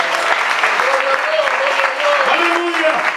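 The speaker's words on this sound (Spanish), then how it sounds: "dame un aplauso al Señor." A church congregation claps in a dense, steady burst of applause that fills the room, with a preacher's voice calling out over it.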